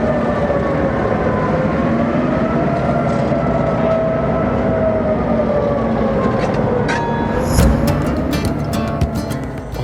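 HO scale model freight train switching cars in a rail yard: a continuous close mechanical whir and rumble with shifting drone, then a cluster of sharp metallic clicks and clanks near the end.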